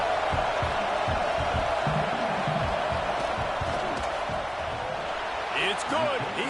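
Stadium crowd noise in the College Football 26 video game, a steady loud roar with rumbling and thumping throughout as the kicker lines up a field goal, with a commentator talking over it.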